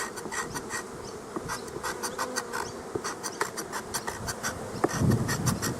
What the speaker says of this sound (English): Yeah, nice quiet bees.